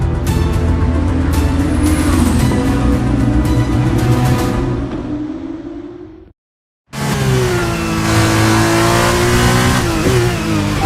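Formula 1 race car engine in the game F1 23, a loud high whining roar rising in pitch as it accelerates, cutting out briefly, then returning and revving again through gear changes.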